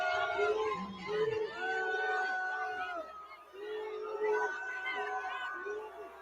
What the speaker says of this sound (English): The more she tries to tell them to stop booing, the more they boo.